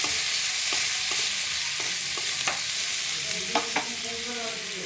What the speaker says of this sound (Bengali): এবার একটু কষিয়ে নেবো ভালো করে